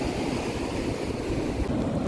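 Big sea waves breaking on the shore nearby make a steady, loud, dense roar. Wind buffets the microphone throughout, with no voices.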